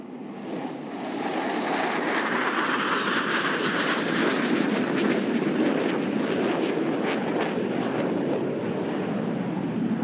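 Loud, sustained roar of an F/A-18 Super Hornet jet sweeping past in a carrier break at about 350 miles an hour during an air show, a broad rushing noise that swells and holds steady.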